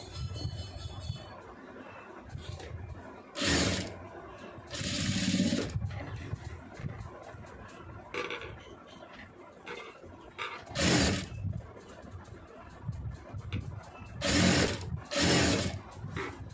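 Domestic sewing machine stitching the star-shaped neckline of a blouse, running in several short bursts of whirring between pauses at moderate volume, with no one talking.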